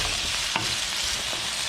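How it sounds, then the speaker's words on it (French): Potatoes frying in a wok, a dense and steady loud hiss of hot oil that continues unbroken, with a soft bump partway through. "Donc je mets à frire mes pommes de terre."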